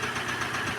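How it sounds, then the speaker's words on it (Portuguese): Renault Clio engine with a loud mechanical noise in the motor, a rapid rattling knock over a steady idle, close up and brief, no voices. "O carro apresenta aí bastante"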